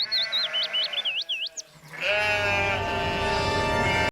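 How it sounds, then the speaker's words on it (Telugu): A sheep flock bleats at length in a forest, several wavering calls close together, then a loud, dense chorus of overlapping bleats fills the second half. "మరుసటి రోజు ఆ వ్యక్తి గొర్రెల్ని తోలు అడవిలోకి వచ్చాడు."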